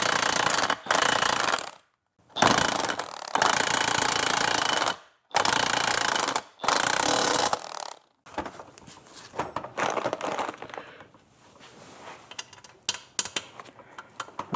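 A bolt on the control arm of a 1978 Silver Anniversary Corvette is run tight with a power tool: four or five loud, harsh rattling bursts separated by short pauses, then quieter clanking and handling noises close by.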